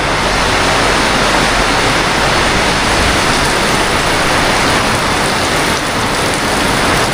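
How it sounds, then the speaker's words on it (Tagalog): Heavy rain pours down steadily and loudly, a dense unbroken hiss close by with no voices. "Grabe po, lalong lumakas ang ulan."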